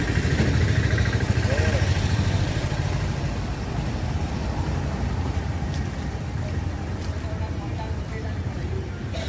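A rented scooter ridden along a seaside road, its engine droning steadily up close beneath strong wind buffeting, a continuous rushing roar throughout.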